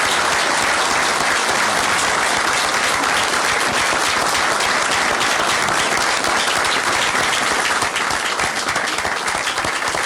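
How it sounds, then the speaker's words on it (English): Sustained, dense applause fills a room at the Georgia state capitol after the governor's announcement of Kelly Loeffler as the state's next U.S. Senator, steady and loud for the full stretch with a faint crowd murmur underneath. "Turn it down for the applause."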